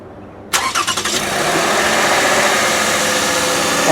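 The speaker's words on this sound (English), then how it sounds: "The rattly sound you got is because there's no oil in the engine." A 2007 Toyota Camry XLE V6 cranking and firing up after an oil change: a short, rapid burst of starter chugs catches into a loud, steady idle with a brief rattle at the start, close and alone.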